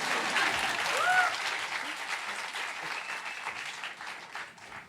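An audience claps steadily in a dense wash of applause that holds for several seconds and then slowly thins out, with a brief voice rising over it early on.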